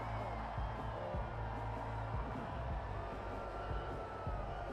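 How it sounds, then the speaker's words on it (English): A crowd at a Savannah Bananas baseball game boos in a steady, dense roar that fills the stadium, with no individual voices standing out. "They're booing."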